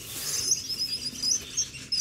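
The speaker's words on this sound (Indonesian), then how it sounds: "Nih jalak putih guys, nih jalak putih yang kemarin pada nanyain jalak putih." White starlings (jalak putih) chirp in thin, high, repeated tweets, fairly close, with soft rustling and handling noise underneath and no talk.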